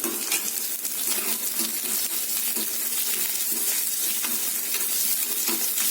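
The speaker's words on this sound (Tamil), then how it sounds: "கொஞ்சம் சின்ன சீரகம் போட்டு தாளிச்சிக்கலாம்." Steady crackling sizzle of cumin seeds frying in hot oil for sambar, continuous and close, with occasional small pops and stirring.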